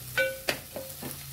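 Dried shrimp being sautéed with ginger garlic paste in a pan, a short, soft sizzle with a couple of scraping stirs, close and fairly quiet.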